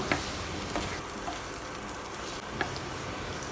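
A batch of crispy potato fry hisses steadily in a hot pan, with scattered spoon clicks and scrapes as it is stirred, fairly loud and close.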